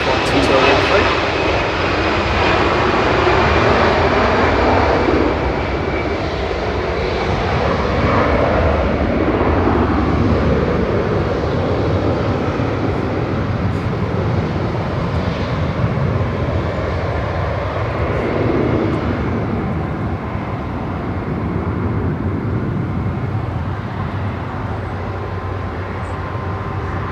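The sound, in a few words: plane departing Manchester Airport for Alicante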